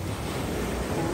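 Atlantic Ocean surf washes against the shore near Boston on a rainy day, a steady broadband roar of waves mixed with gusting wind buffeting the microphone, with no voices.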